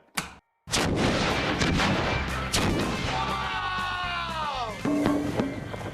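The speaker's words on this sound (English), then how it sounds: "Sewer explosion." A sewer explosion: a loud, sudden boom bursts out, followed by a rushing, roaring blast that trails off with debris, loud and close.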